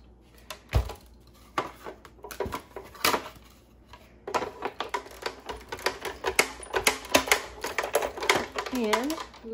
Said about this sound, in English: And then we're gonna run it through our die cutting machine.